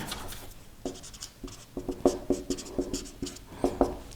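Hand writing while working through a class 10 trigonometry problem gives close, quiet scratchy strokes and taps in a quick, uneven rhythm, with no talk over them.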